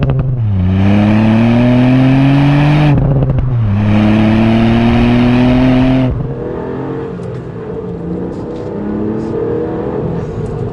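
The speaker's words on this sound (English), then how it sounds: "for me it's all about getting behind the wheel and driving the car." A 2018 Ford Fiesta ST engine revving loudly while driving, climbing through two strong upshifted pulls with a sharp gear change between them, then dropping to a lower, quieter cruise.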